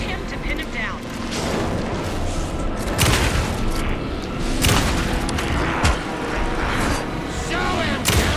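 Video game gunfire aimed at a boss in Alan Wake II, heavy booming shots and impacts over a dense, rumbling soundscape, with loud blasts recurring every second or two and voices mixed in.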